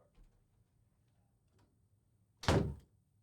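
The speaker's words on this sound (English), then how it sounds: "I'm gonna just close this door." A door swings shut with a single solid thunk, fairly close and loud against a quiet room, with faint background noise before it.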